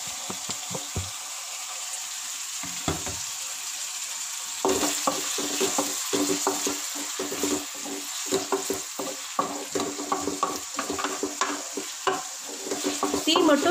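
Prawn gravy with tomato and green chili frying in a pan: a steady close sizzle with repeated scraping of a spoon stirring, the stirring growing busier and louder partway through, no talking.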